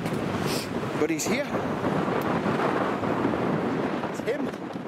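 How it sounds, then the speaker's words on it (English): Heavy wind roars and buffets continuously in snowy woods, rumbling low, while someone speaks briefly underneath. "Windy as hell."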